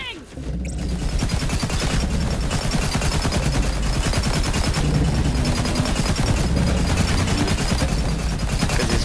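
Gunfire in Borderlands 3, a loud unbroken stream of rapid automatic shots that hammers on for the whole stretch over a dense, booming battle backdrop.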